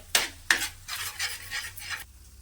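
Masala roasting and being stirred in a pan for Dhaba-style tawa egg masala: a few sharp spatula scrapes, then a steady series of rhythmic stirring strokes, close and clear, with no talk.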